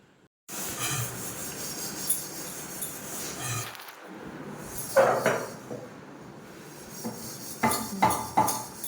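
Dishes being washed after cooking, with close clattering of metal pots, plates and utensils in uneven bursts and scrapes over running noise.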